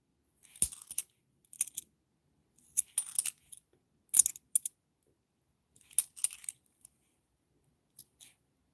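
Coins drop and clink in short bursts, about eight separate jingling clusters spaced irregularly, close and crisp against near silence.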